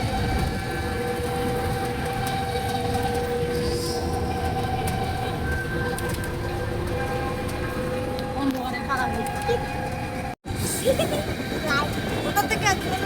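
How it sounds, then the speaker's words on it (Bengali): The Guwahati Express rolls through NJP railway station with a loud, steady rumble and sustained metallic hum, a brief cut near the end, and people talking nearby throughout. "এনজেপি স্টেশন থেকে ট্রেন আছে, গুয়াহাটি এক্সপ্রেস।"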